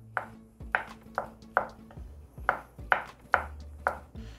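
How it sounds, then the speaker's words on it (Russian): Rhythmic knife chops finely cutting crab sticks on a cutting board, about ten even strikes close up with short pauses between them. "Нарезаем их мелко."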